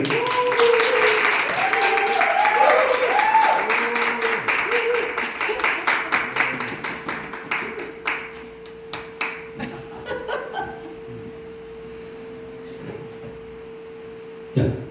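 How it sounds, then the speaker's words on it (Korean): Applause from an audience at a ventriloquism show, a crowd clapping with some laughter and voices, then thinning into scattered, fading claps while a steady tone hums underneath. "박수 한 주세요"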